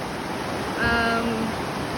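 A rushing river in a backyard, heard as a constant wash of water noise, with a brief tonal sound rising over it midway.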